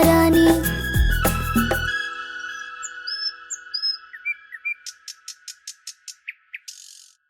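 Bright, close bird chirps and whistles in a Hindi children's rhyme, first over loud music, then alone as a run of short repeated tweets that quickens toward the end.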